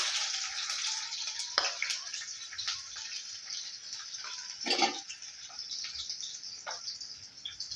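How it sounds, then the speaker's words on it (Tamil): Steady sizzling of fenugreek, garlic and onion frying in hot oil for a fish curry, a continuous bright crackle with a few louder pops and stirring clatters. "இப்போ வெந்தயம் பொரிஞ்சதும் நம்ம பூண்டு சேர்த்துக்கலாம் பூண்டு வெங்காயம்"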